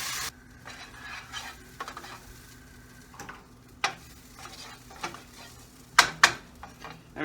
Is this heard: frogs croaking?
no